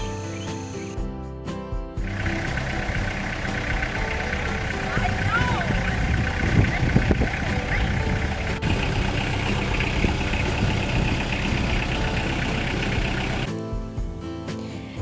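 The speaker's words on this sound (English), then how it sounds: "you don't necessarily have to have a tractor like we're using to get your pig on the grill" A tractor engine idles in the East Tennessee mountains at a pig pickin' cookout, a steady low rumble running throughout, with muffled background sounds over it.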